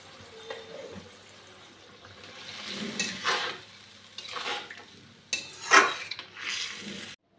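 Fried liver and potatoes are stirred and tossed in a sizzling pan, with a spatula scraping and clinking in uneven bursts over a low frying hiss.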